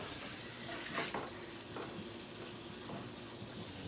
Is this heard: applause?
no